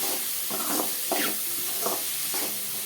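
Bitter gourd pieces being stirred with tomato in a sizzling pan, a soft continuous fry with several rhythmic scraping strokes of a spoon, close and alone.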